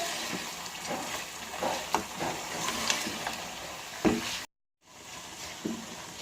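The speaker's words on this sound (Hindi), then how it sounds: "जुलियन कटा हुआ अदरक डाला और 2 से 3 मिनट के लिए अदरक डाल के इसे भूनना है" Beef pieces fry with julienned ginger in a karahi for Shinwari karahi, a close, steady sizzle marked by stirring scrapes and clacks, and a brief silent break before the frying resumes.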